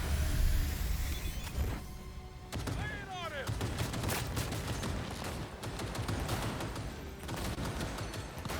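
Sniper shots crack in a video game among dense, loud battle noise, with sharp bursts scattered throughout and a voice talking over parts of it.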